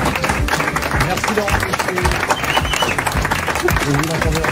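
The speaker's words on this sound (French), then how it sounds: "Vous l'entendez en studio, et dans le studio pour applaudir" A French radio studio audience applauding, dense clapping that holds steady throughout with some crowd noise mixed in.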